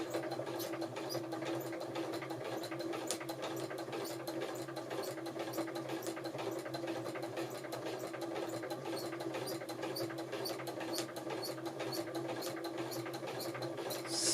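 A sewing machine stitches a line across a quilt taped with masking tape, its needle tapping out a fast, even, continuous rhythm close by with a steady motor hum underneath.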